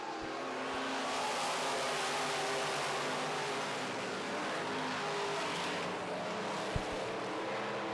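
Midwest Modified race cars roar around a dirt track during a heat race, a steady loud engine drone with a few sharper passes as the cars sweep by at a distance.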